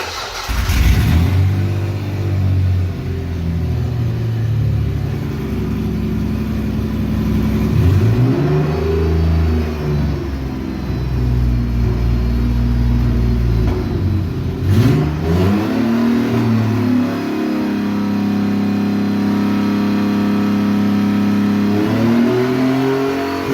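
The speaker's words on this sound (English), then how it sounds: "now that we've got the supercharged engine all put together and running on the engine" Supercharged engine from an Opel Rekord idling and revving on a run stand, loud and close, with repeated throttle blips rising and falling in pitch over a steady idle, no voices.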